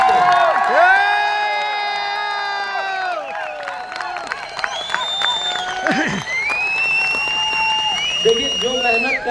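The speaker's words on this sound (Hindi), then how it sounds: "एक बार जोरदार तालियां हमारे लीडर्स के लिए" Crowd cheering, whooping and shouting for Gujarat leaders at an RCM gathering in Vastral, Ahmedabad, loud and continuous with whistle-like tones, applause underneath and voices calling out throughout.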